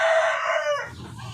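A rooster crows loudly and close, one long drawn-out call that trails off, with faint clucking from other chickens behind it.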